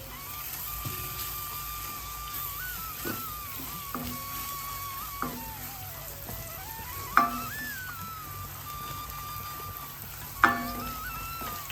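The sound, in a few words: stirring spices with asafoetida in a pan for rasam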